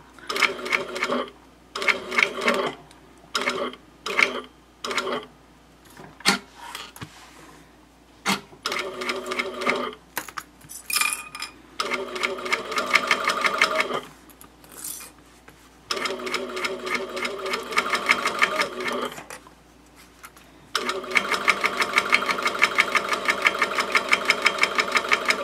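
Sewing machine basting a zipper pocket on a wristlet pouch or crossbody bag, running in loud bursts of rapid needle chatter separated by short pauses, stopping and starting many times, close up with no talk.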